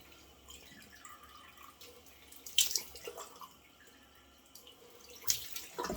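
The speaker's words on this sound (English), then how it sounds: "I just wet my alum stick really just on the bottom of the whiskers." Tap water runs and drips as an alum stick is wetted at a bathroom sink during a wet shave, with a few brief splashes and drips over low, steady faucet flow.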